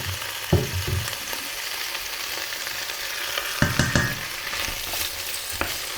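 Lentil salad ingredients warming gently in a pan give a soft, steady sizzle, with spatula stirs and scrapes clattering near the start and again around the middle.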